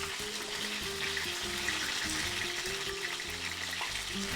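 Chile rellenos fry in a pan on low heat, giving a constant, dense sizzle close up, with no talking.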